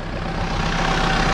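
A tractor engine idles in a field during cover-crop mustard seed sowing, a steady low rumble that holds constant and close throughout with no voices.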